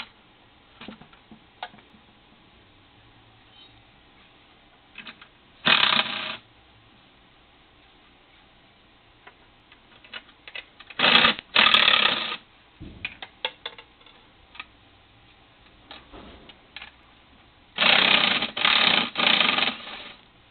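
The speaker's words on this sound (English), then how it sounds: "Those are the ones I'm taking off with the 13 millimeter wrench on the inside." A 13 mm wrench loosens lock nuts on a shark toy, giving short bursts of rapid ratcheting clicks in three separate spells, close and clear against a quiet background with faint scattered ticks between.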